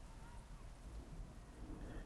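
Steady rain over an empty street at night, a dense continuous hiss with low rumbling underneath and no distinct drops or voices standing out, holding evenly throughout.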